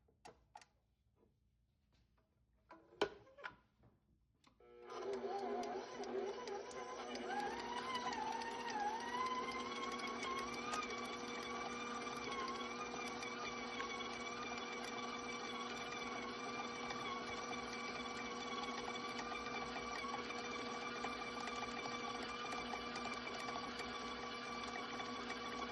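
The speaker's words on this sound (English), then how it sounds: "I'm going to put my room temperature cream cheese into the bowl of my stand mixer until it becomes very light and creamy" A stand mixer beats room-temperature cream cheese in its bowl for red velvet cupcakes. A few handling knocks come first, then the motor starts and runs as a steady, even whine with a faint ticking beneath it, with no talking.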